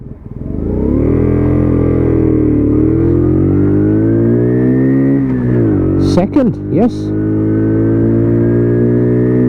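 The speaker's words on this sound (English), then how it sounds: "And you know that note just there. You'll get used to the engine note when you know where to change gear." A WK Colt 50cc scooter engine drones loudly and steadily while climbing a hill, its pitch rising and dipping with the throttle, close up, with a brief burst of speech over it.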